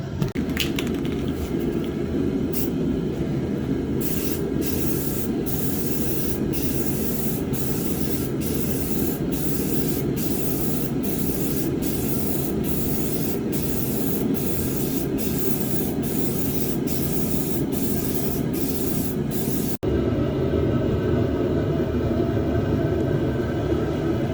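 A spray gun applies a second coat of paint to a car, giving a loud continuous hiss that runs without a break, with sharp periodic clicks in the first part and a brief pause near the end.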